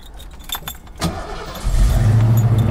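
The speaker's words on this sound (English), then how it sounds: "Car starts up easily." A 1991 Ford Mustang GT convertible's fuel-injected engine cranks and catches, then settles into a loud, steady rumbling cold idle close by, after a few clicks and rustles.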